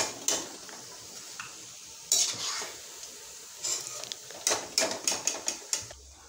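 Pakoras are lifted piece by piece out of hot frying oil, giving soft sizzling and scattered metal clinks and scrapes of a utensil against the pan, fairly faint and intermittent.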